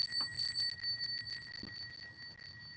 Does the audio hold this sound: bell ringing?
yes